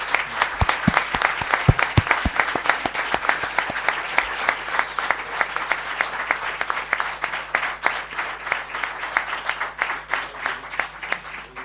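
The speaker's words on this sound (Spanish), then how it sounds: "Un aplauso muy grande para Juan Ignacio." An audience at a book presentation gives long, enthusiastic applause for the author, with loud individual claps up front settling into dense, sustained clapping.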